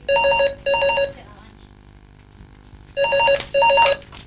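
A telephone rings in an office, two loud electronic double-trill bursts separated by a pause of quiet room tone.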